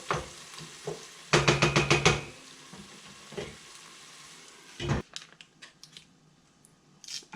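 Celery and onion cooking in a covered pan, giving a soft sizzle with brief clattering bursts and taps from a lid or utensil, then quieter crackling toward the end.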